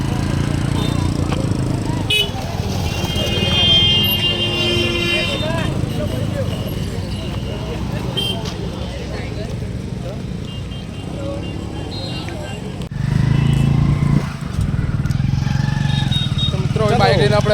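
A motorcycle rides along a road with a steady, loud engine drone and road noise throughout, as people talk over the ride.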